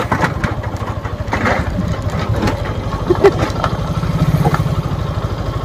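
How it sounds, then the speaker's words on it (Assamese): A motorcycle engine chugs steadily while towing a cart behind it, with a close, continuous low throbbing rumble and scattered rattles throughout. "মটৰচাইকেলখন মই চলাই আহিছোঁ, পিছফালে ঠেলাখন লাগি আহিছে।"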